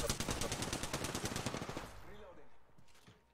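Rapid gunfire from a Wingman pistol in the Apex Legends video game rattles loudly for nearly two seconds, then stops, leaving faint game sounds and a brief voice in the background.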